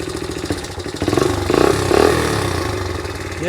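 A 1982 Honda XL80S motorcycle engine idles with a close, putting rhythm, then rises through a couple of short revs before settling back toward idle.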